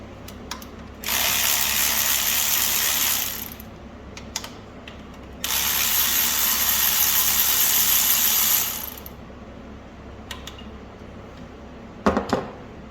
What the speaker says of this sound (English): I'm going to take these mounting bolts off.